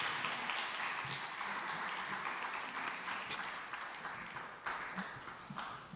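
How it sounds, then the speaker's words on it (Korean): A church congregation at a combined adult worship service applauds steadily, dense sustained clapping filling the hall for several seconds with no speech. "퇴장하실 때까지 계속해서 박수로 감사의 마음을 표했으면 좋겠습니다."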